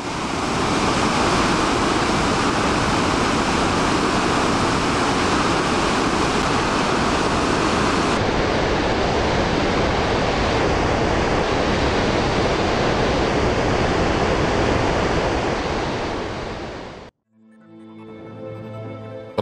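Dettifoss waterfall in Iceland, 44 meters high and 100 meters wide, thunders as a dense, steady roar of falling water, loud and unbroken for the whole stretch before a sudden drop near the end.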